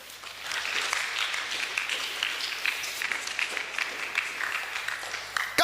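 A church congregation bursts into sustained applause during a Sunday service: dense, fairly loud clapping from many hands that holds steady for several seconds, with a sharp clap near the end.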